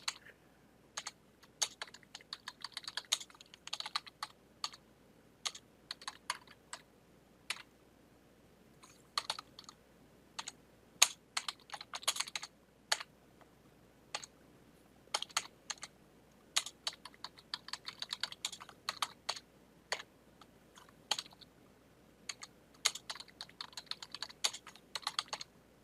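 Typing on a computer keyboard, with quick irregular bursts of crisp key clicks separated by short pauses, close and fairly quiet, no voices.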